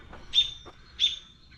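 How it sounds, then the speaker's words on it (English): Recorded artificial birdsong plays at a winery in Wilder, Idaho, two bright, clear chirps about half a second apart, moderately close, with no talking over them. "So they have fake birds chirping."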